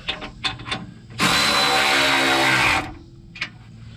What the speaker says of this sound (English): use my 3/8 drive to hand tighten these here down a little bit more